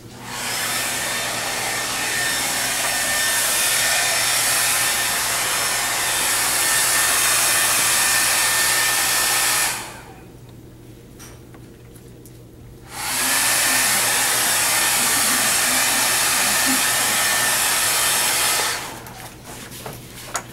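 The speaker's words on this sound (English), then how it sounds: "I'm going to blow dry this." A hair dryer blows steadily over a wet watercolor painting of a bottle on a tabletop, running loud and continuous, switching off for about three seconds, then resuming before cutting out near the end.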